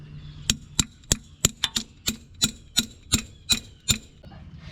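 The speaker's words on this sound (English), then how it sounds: "Then we'll take our hammer." About a dozen sharp hammer strikes ring out at an irregular pace during assembly of a 6.7 12-valve Cummins diesel engine, each blow a crisp metallic crack over a quiet shop background.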